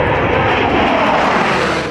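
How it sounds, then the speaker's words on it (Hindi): An Indian Air Force Sukhoi fighter jet roars at a forward air base near the China border, a loud, steady engine rumble that fills the whole moment without a break. "भारतीय वायुसेना के विमान सरहद पर गरज रहे हैं।"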